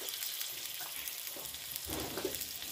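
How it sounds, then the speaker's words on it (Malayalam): Chopped small onions sizzle in hot coconut oil, a steady bright frying hiss running throughout with a few soft stirring scrapes partway through, close and alone. "നമ്മൾ വെളിച്ചെണ്ണയിൽ മൂപ്പിച്ചെടുക്കുക"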